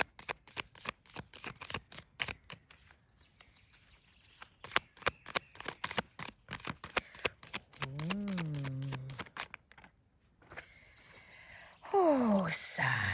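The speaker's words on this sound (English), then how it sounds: "I'll pull out cards for your influences and obstacles" Tarot cards being pulled from a deck and shuffled, a long run of rapid crisp riffling flicks and slaps, close and fairly quiet, with a brief hum of voice partway through.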